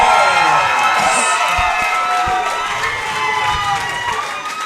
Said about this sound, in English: Dylan Farris gets a great reaction from this crowd